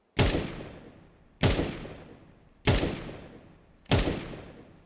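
Four single gunshots in a shooter video game, fired at an even, deliberate pace about a second apart while counter-strafing, each a sharp loud crack with a fading tail.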